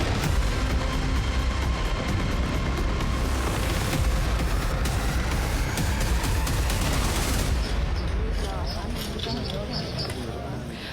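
Gunfire and explosions ring out during a coordinated terrorist attack on police stations in southwestern Colombia, with dense bursts and impacts sounding loud and continuous throughout, heavily mixed with voices and fading slightly toward the end.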